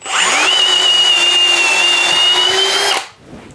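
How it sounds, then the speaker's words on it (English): A Milwaukee 1/2-inch hammer drill (2804-20) with a 3/8-inch bit, not in hammer mode, whines steadily at high speed for about three seconds, then cuts off abruptly and spins down. "we're gonna start with some simple drilling"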